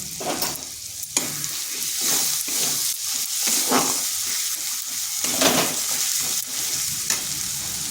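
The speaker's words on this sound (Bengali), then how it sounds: "মশলাটা ভালো করে কষিয়ে নিচ্ছি" Masala with tomato for a mushroom curry fries steadily in a pan, a continuous loud sizzle broken by repeated scraping strokes of stirring, with no voices.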